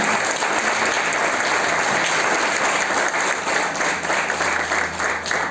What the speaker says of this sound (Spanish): Hay un aplauso fuerte al Señor. Gloria a Dios, fuertes aplausos, fuertes aplausos.